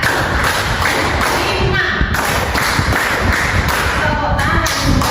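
A classroom of students claps along to a counted pattern, dense thumping claps with rhythmic bursts over a busy room, while a voice calls out a number.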